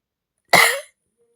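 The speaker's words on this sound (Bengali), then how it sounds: "খুব বেশি কাশি" A single short, harsh cough from a person with a cold and fever, close and loud, followed by silence.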